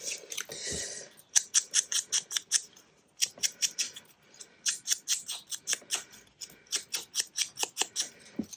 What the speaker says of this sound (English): I'm going to cut a bit more of the daisy off here